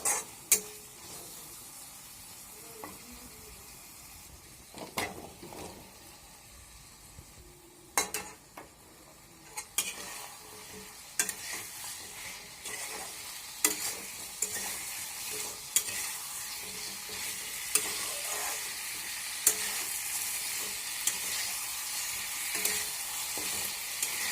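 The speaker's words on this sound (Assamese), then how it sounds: "এতিয়া আমি ইয়াতে দি দিম ৰঙলাও আৰু আলুখিনি।" Banana flower and potatoes are fried and stirred in a pan for a home-style fish curry, giving a steady sizzle broken by frequent scraping and clinking stirs that grow busier toward the end, with no talking.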